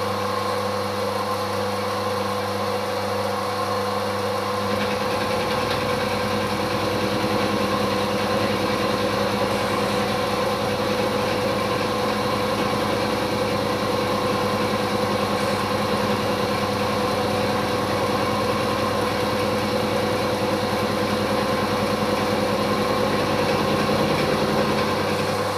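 A machine cutting chamfers on sharp metal edges, with a dividing head and cutting oil, produces a steady, loud mechanical hum and whine that runs continuously at close range without any talking.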